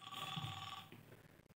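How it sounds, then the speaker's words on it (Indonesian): A phone rings close by as a steady electronic tone that lasts about a second and then cuts off into silence. "Nah, ini telepon dari Pak Monang"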